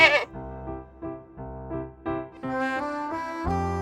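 A few wavering bleats from a goat, some layered and overlapping, with music-like tonal sound underneath; moderately loud and close.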